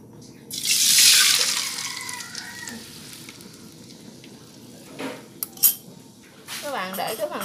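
Soy sauce liquid splashes and sizzles into a hot pan of tofu skin rolls, a bright hissing burst that fades into a quieter simmer with a few clinks of utensils.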